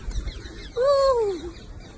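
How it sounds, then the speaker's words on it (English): A parrot perched on a woman's head gives a single clear, rising-then-falling whistled call in the middle of the moment, close and alone against a quiet background. "When a parrot comes and jumps on your head, you just kind of hang out with the parrot."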